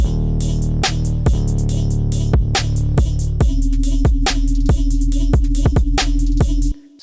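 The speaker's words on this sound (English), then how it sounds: "Now with the hi-hats." Electronic dance drop made in Ableton for a bass track, with hi-hats added: loud sustained low bass and regular kick hits, with a steady bright ticking hi-hat pattern running through the second half, ending abruptly.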